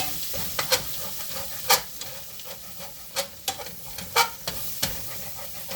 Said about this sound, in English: now when I'm doing this, I'm scraping the bottom